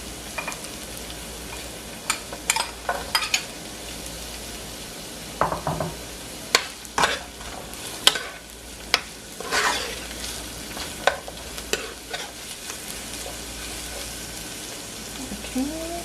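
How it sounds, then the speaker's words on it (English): Carrots sizzle in a pot while a spoon scrapes and stirs them, bursts of clinking and scraping over a steady frying hiss, close and moderately loud. "And now I'm going to add my carrots in."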